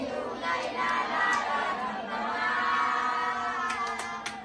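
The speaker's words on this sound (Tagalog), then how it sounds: "Malakas ang palakpakan, sigawan po para sa Barangay Balite." A crowd at a Barangay Balite gathering cheers and shouts in a steady, loud roar of many voices lasting throughout, with scattered higher yells near the end.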